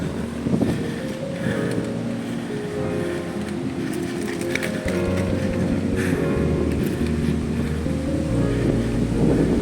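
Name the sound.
strong wind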